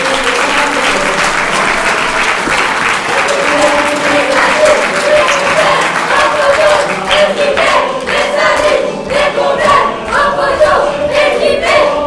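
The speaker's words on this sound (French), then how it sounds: "cher public, que nous pouvons les applaudir chaleureusement" A school theatre audience at a Collège St Privat show in Mende applauds warmly, dense continuous clapping filling the hall from start to finish, with a few cheers mixed in.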